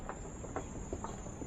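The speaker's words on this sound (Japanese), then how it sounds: "こんな都会なのにですね、セミの鳴き声が聞こえます。" Cicadas drone in the city near JR Ichigaya station in Tokyo at night, a faint, steady high-pitched buzz over soft distant urban rumble.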